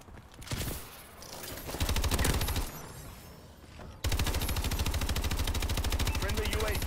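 A tank's gun firing in Call of Duty: Advanced Warfare: a rapid automatic burst near the two-second mark, then a louder sustained stream of fast, evenly spaced shots from four seconds to the end.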